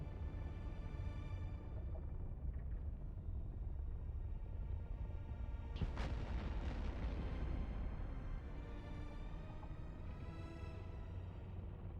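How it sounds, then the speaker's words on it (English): Space-battle explosions in the EVE Online video game, a continuous low rumble with dense bursts and one sharp louder blast midway, all fairly faint and distant-sounding. "The explosions in the background worry you?"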